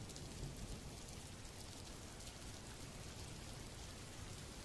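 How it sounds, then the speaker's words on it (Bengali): Constant, dense rainfall hisses evenly, with a low rumble underneath and no voices. "ও, যা ঠান্ডা পড়েছে, তার ওপর বৃষ্টির বিরাম নেই"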